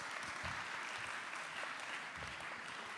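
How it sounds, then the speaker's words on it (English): A church congregation at a Sunday service applauds in a steady, dense round of clapping heard from a distance, with low thumps and faint crowd noise beneath. "You can give him a round of applause."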